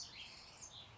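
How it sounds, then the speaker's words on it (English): Sparrows chirp faintly in a garden greenhouse, a thin, continuous twittering with no voices. "Can you hear the sparrows?"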